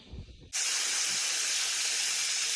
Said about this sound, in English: Okay, I got the chicken cooking.